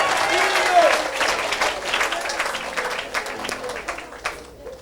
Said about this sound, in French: Donne une grande acclamation à Jésus de Nazareth